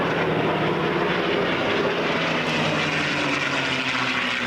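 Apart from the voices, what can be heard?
B-17 bomber and escorting propeller fighter aircraft flying at airshow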